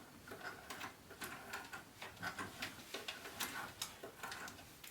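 A sewing machine hand-cranked slowly through bulky wallet seams makes a quiet, even run of mechanical ticks and clicks, roughly a few per second, close and alone.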